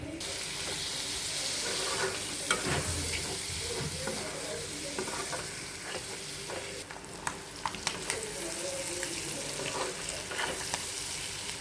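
Ingredients are stirred and fried together in a pan in a home kitchen, giving a continuous hissing sizzle. Scattered clicks and scrapes from the stirring spoon sound close by over nearly twelve seconds.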